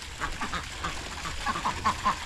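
A flock of farm ducks at a pond quacks in a rapid, overlapping chatter, close and fairly loud against a faint outdoor background, with no one talking.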